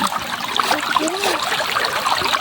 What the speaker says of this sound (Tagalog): Ang tubig na dumadaloy at umaawas mula sa tangke ng abuyon at iba't ibang bukal na pinanggagalingan.